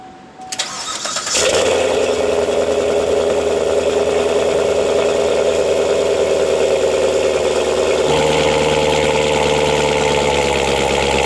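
A C7 Corvette Grand Sport engine fitted with a K&N air filter cranks and fires at once, then settles into a loud, steady idle that grows slightly louder and rougher near the end, with no talking.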